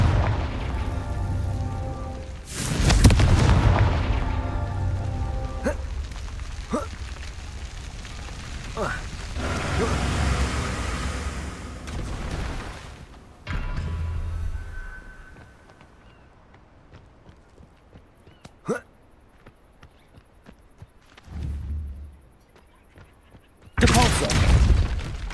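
Spell blasts from the Confringo curse in a wizard video game burst out as several loud booms with crackling tails, spaced across a stretch of game noise, with a voice shouting the spell name.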